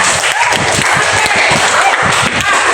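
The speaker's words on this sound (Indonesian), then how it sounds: "Tepuk tangan buat teman kita." A classroom group claps enthusiastically in a steady burst of applause, loud and close, with a few voices mixed in.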